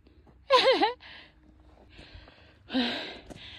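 Heavy breathing from a climber ascending in the Dachstein Alps, a few strained gasping breaths close by with brief quiet gaps between them.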